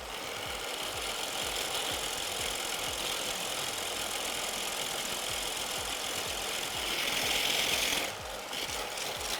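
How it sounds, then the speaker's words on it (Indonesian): An electric hand mixer whips cold whipping cream for a gluten-free chocolate cake, giving a steady close motor whir with a rapid buzzing rattle that rises slightly in pitch near the end, with no talking. "whipping cream ini juga dikocok dalam keadaan dingin ya"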